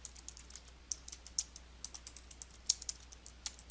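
Fingers type on a computer keyboard in quiet, irregular clicks, with a few sharper keystrokes standing out over a low background hum.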